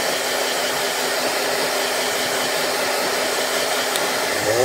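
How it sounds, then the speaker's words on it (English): A blow dryer blasts cold and warm air onto a custom-painted wrestling figure, a loud, steady whooshing whir held close and unbroken throughout. "This is the blow dryer I use."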